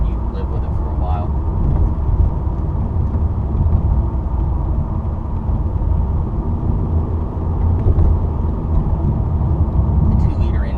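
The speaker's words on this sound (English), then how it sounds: "The 2-liter engine doesn't have the best sound on the planet" A 1999 Volkswagen Beetle 2.0 GLS with its two-liter engine drones steadily while driving, a low continuous rumble mixed with road noise and someone talking over it.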